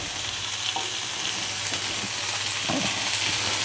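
English breakfast frying in an all-in-one cooking pan, a steady close sizzle running throughout with a few soft scrapes and taps of a utensil pressing down on the food.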